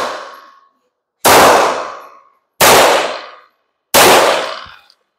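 Four loud gunshots ring off a metal target plate at a shooting range, each a sharp crack followed by a long fading metallic clang, spaced about 1.3 seconds apart with no talking.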